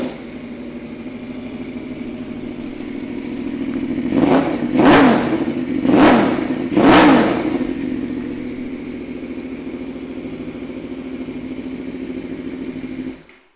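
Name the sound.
Aprilia Tuono V4 1000 APRC motorcycle with Arrow exhaust starting, revving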